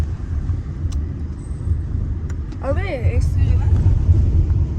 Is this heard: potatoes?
no